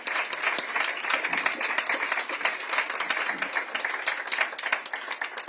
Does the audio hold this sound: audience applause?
yes